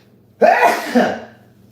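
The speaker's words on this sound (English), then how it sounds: "I'm about to sneeze." A single loud, close sneeze bursts out from near silence, with a sharp onset and a short trailing exhale.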